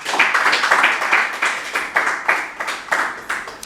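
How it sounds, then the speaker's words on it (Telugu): A group claps hands together in a meditation session, the claps landing in a steady, fairly quick rhythm of about a dozen bursts, loud and close, with no talking. "ఒకసారి ఈ యొక్క ధ్యానాన్ని గట్టిగా క్లాప్ చేసుకుందాం"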